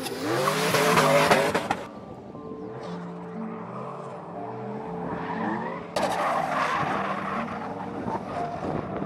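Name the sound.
race car skidding on track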